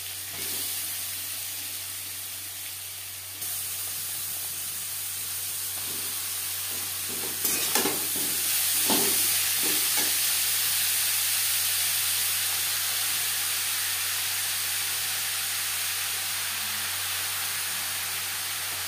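Radish fries in hot oil with black cumin and slit green chillies, giving a continuous hiss over a low steady hum, broken midway by a cluster of sharp crackles and spits before settling back to an even sizzle.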